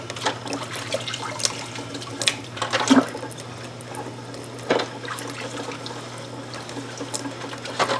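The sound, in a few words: canning jar bands wiped with a sponge under water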